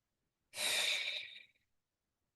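A single slow breath, soft and airy, drawn through a yoga movement and fading out after about a second, with quiet before and after.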